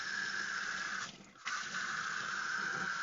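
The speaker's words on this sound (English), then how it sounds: "let me rinse this net out that I said I was going to grab." A net rinsed under a running hot-water tap into a sink: a steady close splash of flowing water that briefly drops off and then resumes.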